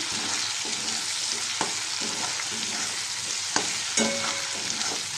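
A prawn dish stirred in a pan over a lowered gas flame, a steady close sizzle with a few scraping clicks from the spoon, no voices.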